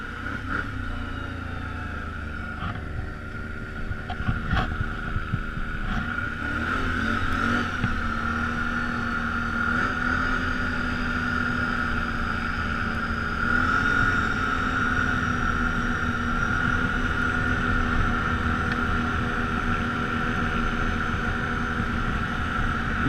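6x6 ATV on a lake winter rally, engine held at a steady high-revving drone for the whole stretch, close and continuous with no easing off.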